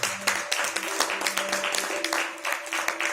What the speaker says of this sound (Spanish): Denle el aplauso fuerte.